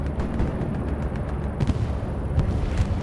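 Dense explosions and bursts of gunfire rumble through a bombing run on the Kursk battlefield in a video game match, with sharp, repeated cracks over a steady low roar.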